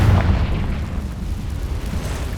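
A Confringo spell explodes in the Hogwarts Legacy video game: a loud, deep boom at the start, then a rumbling fiery tail that fades out slowly.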